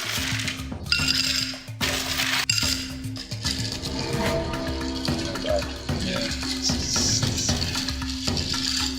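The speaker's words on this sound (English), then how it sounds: "I give it a stir. And then another stir to ice." Ice clinks and rattles as a cocktail is stirred with a bar spoon in a mixing glass. The clinking is close and continuous, with a watery slosh underneath.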